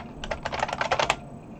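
A quick burst of keystrokes on a computer keyboard entering a search on eBay, about a dozen close, crisp clicks in a rapid run lasting under a second, then quiet.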